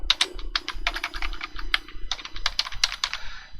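Rapid keystrokes on a computer keyboard typing a folder name, crisp and close with short pauses between bursts of clicks and no speech over them.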